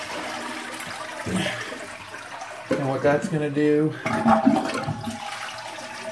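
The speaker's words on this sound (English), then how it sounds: "then we want to give it a good flush." A household toilet flushes with a rushing, gurgling swirl of water draining from the tank during a flapper and fill valve repair, someone talking over it.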